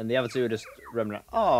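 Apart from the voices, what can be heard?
dinosaur call in a video game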